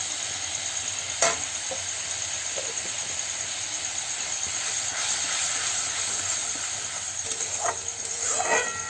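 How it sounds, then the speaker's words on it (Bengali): Spice masala sautés in a pan for a potato and paneer dish, giving a continuous hissing sizzle with occasional scraping stirs, louder toward the end. "ভালো করে মশলাটাকে কষিয়ে নেব।"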